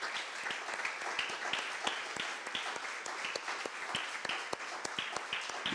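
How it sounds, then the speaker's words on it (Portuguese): A church congregation applauds for the women of the church, a steady crowd of many hands clapping throughout at moderate distance, with individual sharp claps standing out. "Uma salva de palmas para as mulheres."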